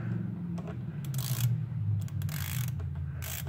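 A ratchet wrench turns bolts during a coolant and thermostat job on a 2002 Grand Marquis, with several rapid bursts of close clicking over a low steady hum.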